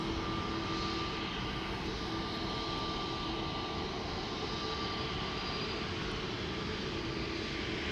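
An EasyJet Airbus A320neo jet at Schiphol Airport gives a steady, broadband engine roar with a faint whine that holds at an even level throughout, with no voices.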